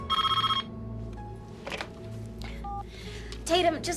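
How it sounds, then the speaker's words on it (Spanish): A mobile phone rings with a short electronic tone burst, followed by scattered beeps and tonal blips over a steady background hum, with speech-like sounds mixed in. "el celular empieza a sonar"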